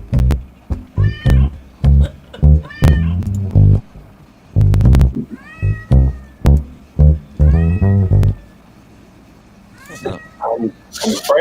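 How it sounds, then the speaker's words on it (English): A cat meows repeatedly and insistently, loud and close, the drawn-out cries rising into caterwauls in irregular bursts with short pauses between them. "When I heard the kitty playing"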